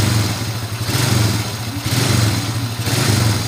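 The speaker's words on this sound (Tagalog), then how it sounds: "Yan, o, re-rebulasyonan ko." A freshly rebored Kawasaki Fury 125 motorcycle engine revs loudly up close, its steady mid-pitched drone rising and falling in repeated throttle blips.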